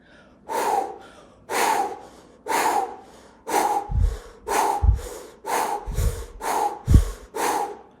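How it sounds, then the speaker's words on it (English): Deep, forceful breathing through the nose in a steady rhythm, about ten close, loud inhale-exhale cycles with audible airy rushes and a few heavy snorting exhales, no talking. "let's just breathe together in this powerful breath"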